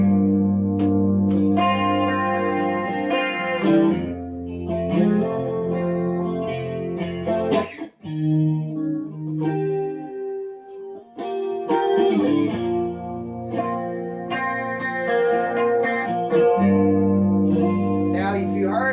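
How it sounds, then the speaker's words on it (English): Electric guitar from a Telecaster rig runs through a Boss CE-5 Chorus Ensemble pedal, with shimmering, warbling chorded phrases and sustained notes, a brief drop near the middle, played alone without voices. "I've just got a Boss CE 5-inch chorus ensemble."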